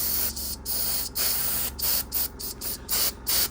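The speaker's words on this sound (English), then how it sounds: "spray out that pipe there" An airbrush sprays base paint in short, repeated hissing bursts with brief pauses, close and steady, each spurt starting and stopping cleanly.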